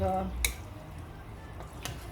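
About a third of a cup of water splashes into a pot of simmering paneer macaroni, giving a short pour with a couple of sharp drips and splashes over steady low bubbling and kitchen noise.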